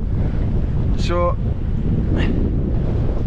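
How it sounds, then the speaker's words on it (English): Strong, constant wind buffets the microphone at a wild camp beside a lake in the Lake District fells, a steady roar gusting to about 32 mph, with a brief spoken word and a couple of faint chirps near the start. "the wind hit 32 mile an hour"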